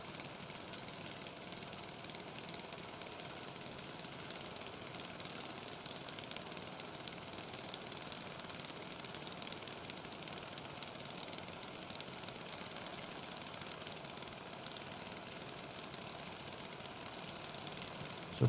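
Junior dragster engines, including a 2014 Race Tech Chassis half-scale dragster, idle at a drag strip, a steady rough mechanical drone with knocking texture holding evenly throughout, with no talk over it.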